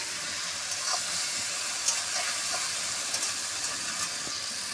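Bhola fish, a trout barb, sizzling steadily in hot spiced oil, a continuous even hiss with faint occasional pops, no voices.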